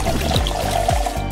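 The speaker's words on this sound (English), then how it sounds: "Let's fill up the pool with water" Water pours and trickles steadily into a toy pool, a close, continuous splashing stream with no voices.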